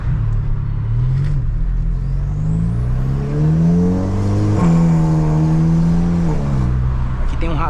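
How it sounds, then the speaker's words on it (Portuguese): A Volkswagen Jetta with a downpipe, an intermediate muffler and a straight pipe for the final section rumbles at night, its deep exhaust note swelling and rising as the engine revs up, then settling back to a steady drone. "Downpipe, um abafador intermediário e o final só o cano. Por isso que ele fica com um ronquinho da hora assim."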